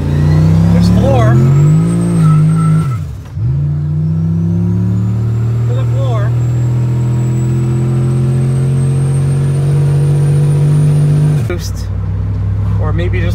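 A boosted 2500 pickup truck at full throttle from a second-gear roll, its engine droning loud and close, pitch climbing steadily through a long pull with a brief dip near the start, while someone talks over it.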